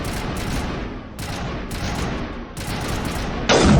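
A series of sharp, loud sniper rifle shots in Mass Effect Legendary Edition, fired in an evenly spaced sequence and each followed by a short decaying tail, with a brighter burst at the end.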